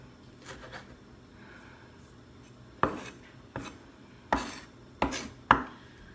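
Sharp knife chops through parsley against a cutting board, a handful of distinct strikes spaced irregularly, close and fairly quiet, with soft handling noise before them.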